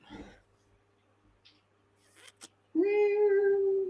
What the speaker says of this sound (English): Is that Garfield, the orange cat?